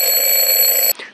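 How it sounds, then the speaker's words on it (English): A timer alarm rings loud and steady with a piercing electronic tone for about a second, then cuts off abruptly, leaving a brief fading tail. "You set a timer for 25 minutes, and after that time is up"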